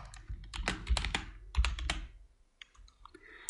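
Typing on a computer keyboard during video editing software work, a close burst of quick clicking keystrokes followed by a pause and a few scattered taps.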